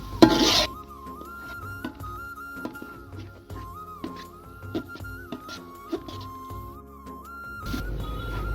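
Lentils (dal) frying and stirred with spices in a pot for khichuri, a spoon scraping and clinking against the metal in a steady rhythm over a low sizzle, with a steady tonal hum in the background.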